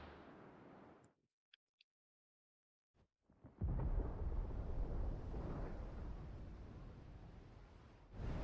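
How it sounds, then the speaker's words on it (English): Thunder in the video game Final Fantasy XVI: a quiet rumble fades to near silence, broken by faint ticks, then a loud, broad roll of thunder swells and sustains for several seconds. "Sounds like thunder."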